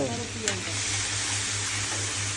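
Whole eggs fry in oil with onion and garlic in an old hotel kitchen, a steady loud sizzle with a brief clatter near the start and a low hum underneath.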